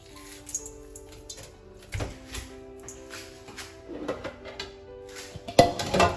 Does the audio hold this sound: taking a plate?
yes